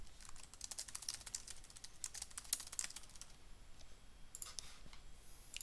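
Rapid bursts of keystrokes on a computer keyboard as a one-time passcode and password are entered into a website login form, quiet and close, with irregular clusters of clicks, a pause, then a final short flurry.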